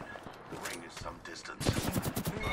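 Rapid automatic gunfire in the battle royale game Apex Legends, bursts of shots crackling under excited player voices calling to each other.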